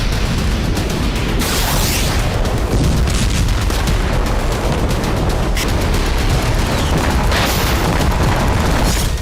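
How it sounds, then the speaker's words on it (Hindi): Rockets fired from Lebanon explode over Israel in a sustained barrage: loud, dense rumbling booms and blasts overlap continuously, with sharper bursts standing out through the din. "लेबनान में मौजूद हजारों रॉकेट का जखीरा अब इजरायल पर रह रहकर बरस रहा है।"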